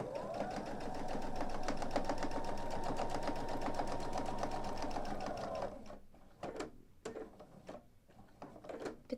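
Sewing machine stitching through quilt layers runs at a steady fast whir for about six seconds, then stops and gives way to several short bursts of stitching and clicks, close and clear, with no talking.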